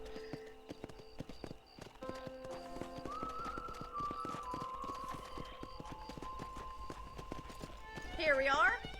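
Horse hooves clip-clopping in the Red Dead Redemption western game, a steady rhythmic trot under someone talking, ending with a brief whinny-like flourish.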